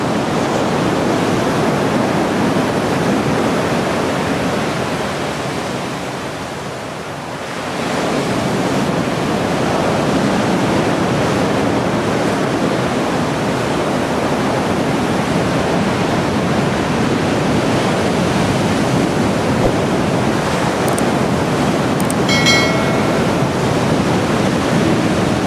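Sea waves surge and crash on the shore at Sochi, a loud, steady roar of surf that fills the whole stretch, dipping briefly partway through before building again, with no voices over it.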